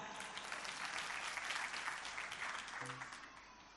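Steady, dense applause from a congregation at a church gathering, continuous clapping that holds evenly before tapering slightly at the end.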